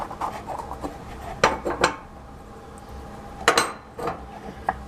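Washed stove burner lids set back onto a black stovetop, giving a few sharp metallic clanks and clinks in two short clusters over a low background hum.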